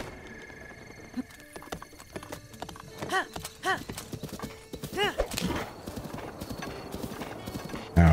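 A horse's hooves clip-clop in a steady trotting rhythm in Zelda: Breath of the Wild, with whinnies and game effects mixed in beneath a player talking.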